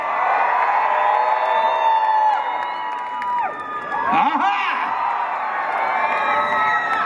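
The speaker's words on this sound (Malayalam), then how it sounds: "Everyone make some noise for the trailer." An audience at a Dubai trailer launch for the film Guruvayoorambala Nadayil cheers and whoops continuously, a loud crowd roar with shouts rising and falling, swelling in a brief surge of excited yells midway.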